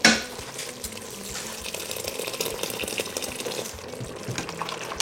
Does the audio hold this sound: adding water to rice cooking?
yes